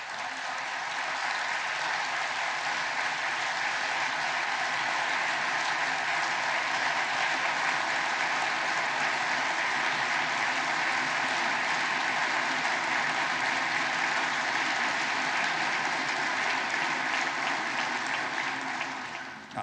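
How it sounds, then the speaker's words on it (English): Sustained, dense applause fills a large chamber during a joint session of the US Congress, a loud, steady roar of many hands clapping that continues unbroken for nearly twenty seconds before tapering off. "I don't get that much applause in the Greek parliament."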